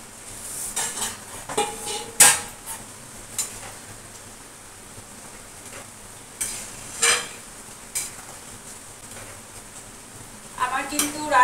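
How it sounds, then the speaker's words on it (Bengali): Fish pieces go into a boiling fish curry in a pot, with scattered clanks and clatters of utensils against metal, short splashy bursts and light bubbling between them. "দেখো মাছের ঝোল উতল চলে এসছে। এবার দিয়ে দিচ্ছি মাছগুলো।"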